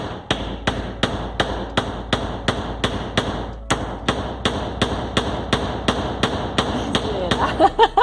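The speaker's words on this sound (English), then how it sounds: "when I hit, the board bends, and it's just like trying to hammer something on a trampoline" Steady, evenly spaced hammer blows drive into a board of very hard wood that flexes under each hit, about two strikes per second, loud and close, with a brief pause midway and faster taps at the end.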